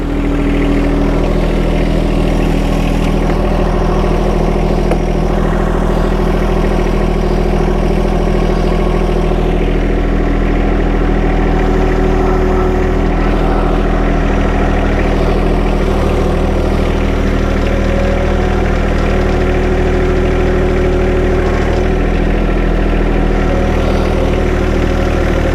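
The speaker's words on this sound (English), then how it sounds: "I'm gonna hop on the tractor and see if I can move it just a little bit." A John Deere tractor engine idles close by with a steady, deep, even rumble that holds unchanged throughout.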